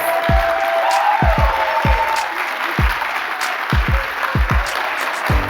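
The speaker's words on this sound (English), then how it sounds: "Please give one more round of applause to our CharMeck 2024 Young Adult Storytellers." An audience at a youth and young adult storytelling show in Charlotte, North Carolina, applauds steadily with scattered cheers, while deep thumps of stamping or a drum land irregularly beneath the clapping.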